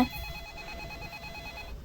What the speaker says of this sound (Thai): มีโทรศัพท์โทรมา